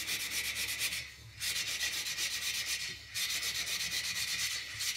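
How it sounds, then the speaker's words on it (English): A flat bicycle rim surface is lightly scuffed with sandpaper in long, even strokes, giving a close, loud, hissing rasp that pauses briefly twice. "I'm just going to go around the flat surface of this and kind of just scuff it up just a tiny bit"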